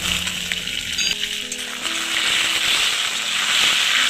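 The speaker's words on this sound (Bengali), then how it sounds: "আলুগুলোকে লাল লাল করে ভেজে নেবো" Potatoes fry in hot oil with salt and turmeric, a loud, dense, continuous sizzle close up that swells slightly toward the end, with no speech.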